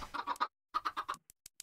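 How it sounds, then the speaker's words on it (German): Chickens in the farming video game Agrarian Skies, a run of quick rhythmic clucks followed by a short pause and another cluster of clucks, clear and close with no speech. "Ja, weil sonst die Hühner rausrennen."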